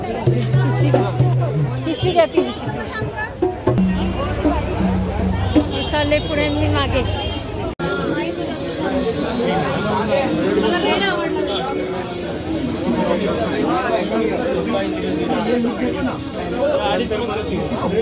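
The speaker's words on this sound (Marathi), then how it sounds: "काय काय गर्दी" A crowded Indian market before Ganesh festival, with a dense babble of many voices and street noise throughout, while people nearby talk over it up close.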